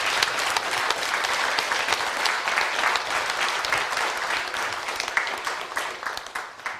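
An audience at an academic conference on mind, science and religion gives the day's speakers a round of applause, dense sustained clapping that holds steady and then begins to thin toward the end.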